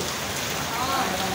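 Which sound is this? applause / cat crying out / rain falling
rain falling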